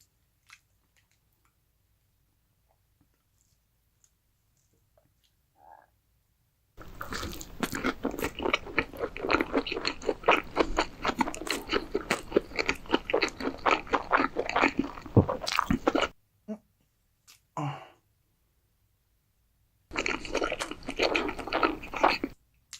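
Close, loud crunching bites and wet chewing of a McDonald's triple onion burger dressed with mayonnaise and mustard sauce, a steady stretch of mastication noise, a pause with a few small mouth sounds, then another burst of chewing.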